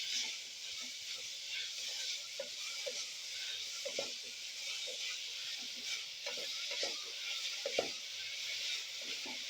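Grated potato sautés in ghee in a pan for a fasting-day bhagar khichdi, giving a steady close sizzle broken by frequent soft scrapes and stirs.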